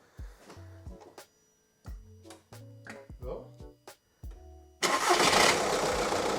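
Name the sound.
car engine cranking and starting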